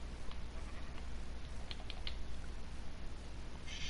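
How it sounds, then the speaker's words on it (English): Sheep in Minecraft bleat a few times, short faint calls over a steady background hum and light keyboard-like clicks, with no talking. "Sheep. Actually, sheep,"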